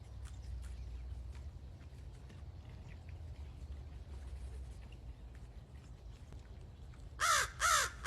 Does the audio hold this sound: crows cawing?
yes